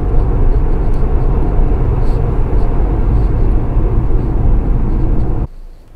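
Steady, loud broadband hum of an ORA Good Cat 500 Ultra electric car accelerating hard in auto mode, road and wind roar building continuously before dropping away abruptly near the end.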